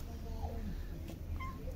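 A house cat gives a couple of faint, short mews, one early and one near the end, against a quiet, noisy indoor background.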